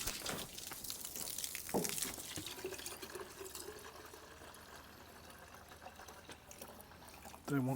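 Coolant being topped up into a car's coolant reservoir, a soft broadband trickle and pour that runs steadily under light background noise and occasional knocks, with a louder burst at the end.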